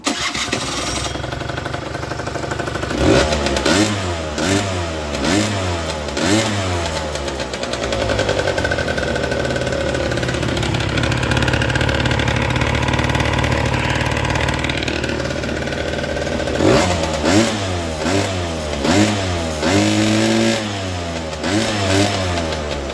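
An AF18E scooter engine with a new cooling shroud fitted, started up and idling, then revved in repeated rising and falling bursts, loud and close, without speech.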